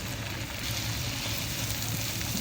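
Ground chicken fries in a pan with onions for spaghetti sauce, producing a dense, steady sizzle and crackle that stays loud and continuous throughout.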